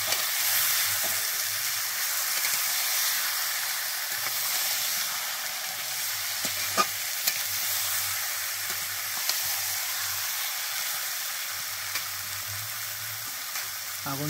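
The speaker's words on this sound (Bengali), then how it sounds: "মাংসটা কিছু সময় নাড়িয়ে নিতে হবে যাতে নিচে পোড়া না লাগে।" Chicken pieces frying in a pan over a wood fire: a steady, close sizzling hiss fills the whole stretch, with a few faint clicks from stirring and a low rumble underneath.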